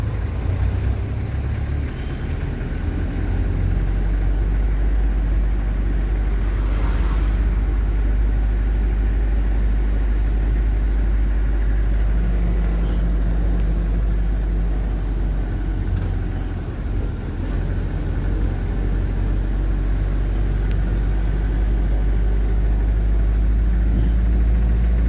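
A code 10 truck's diesel engine runs steadily and loudly throughout, a continuous low drone while the truck is accelerated gently during a straight alley-docking reverse, with no voices over it.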